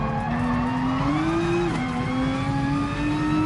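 A Nissan GT-R NISMO GR3 race car in GT Sport holds a steady high engine drone that climbs, drops briefly as it shifts gear, then climbs again. It is loud and continuous, with no talking.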